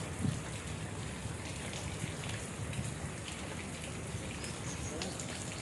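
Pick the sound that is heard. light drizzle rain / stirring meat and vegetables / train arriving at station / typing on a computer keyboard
light drizzle rain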